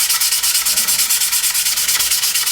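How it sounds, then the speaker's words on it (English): Steady, rapid rubbing strokes of 1500 grit sandpaper against a thick plastic model kit canopy, a close and even scratchy sanding rhythm with no voices. "just sand it back up again with various grits of sandpaper"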